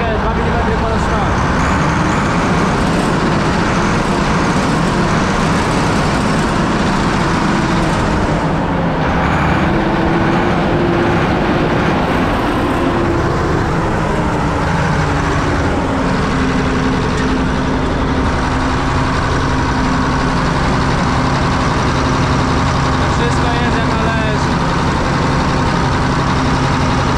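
A Bizon Rekord combine harvester engine runs at its first start after preparation, a loud steady rumbling drone that rises slightly as throttle is given, with no clear talk over it.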